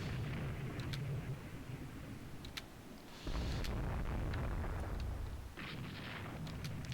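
Naval guns pound an enemy ship in Rule the Waves 2, heavy rumbling blasts and sharp cracks over a constant roar of battle, with a big surge of firing midway, fairly loud and no talking.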